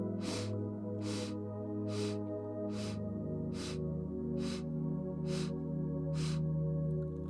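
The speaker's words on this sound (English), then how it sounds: "Inhaling in 8 sniffs through the nose." Eight evenly spaced short nasal sniffs draw breath in, one after another, over a steady low musical drone, as a breathing exercise.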